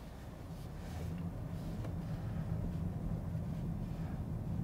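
A BMW M440i Gran Coupé with an 8-speed automatic pulls away from inside the cabin, producing a quiet, steady low engine rumble with faint wind hiss that rises gently as it gets moving.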